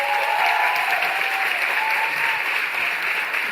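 Sustained audience applause in a hall at a Casa TPM talk event, a dense, even roar of clapping that holds steady throughout with no one speaking over it.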